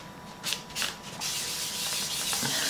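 Colouring medium is rubbed onto paper in an adult colouring book, a close, soft scratchy friction in a few short strokes that turns into a steadier continuous rub.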